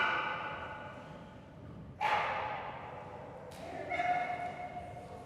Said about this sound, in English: Fun little tiny Belgian Malinois